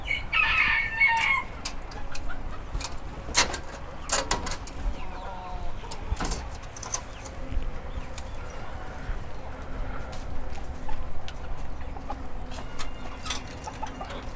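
Silver Brakel roosters crow repeatedly in a poultry coop, the calls overlapping at moderate distance over steady farmyard background noise, with clucking hens and occasional scuffling sounds mixed in.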